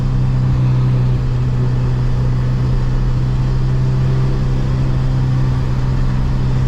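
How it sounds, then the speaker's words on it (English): A turbocharged Honda S2000 engine idles steadily in traffic with a deep, constant rumble, close and loud, holding an even pitch throughout without revving. "Something about this car, it just screams."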